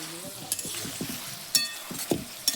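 Gentle sizzling of a spicy catla fish head curry in a pan, punctuated by several sharp clinks and scrapes of a utensil stirring, close by.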